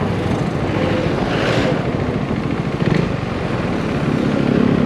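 Husqvarna 401, a simple 400cc motorcycle, running steadily with a continuous low engine drone and broadband noise throughout, heard close and alone without talk.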